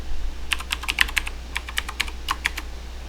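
Password being typed on a computer keyboard while setting up a Raspberry Pi 3, a quick irregular run of light key clicks heard up close against a low steady hum.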